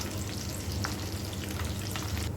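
A keema cheese sandwich fries lightly in a pan, giving a steady, close sizzle with a few soft scrapes and stirring clicks over a low hum, with no talking.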